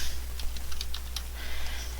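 Quick keystrokes on a computer keyboard, a short uneven burst of light clicks over a steady low electrical hum, fairly close and soft, with no talking.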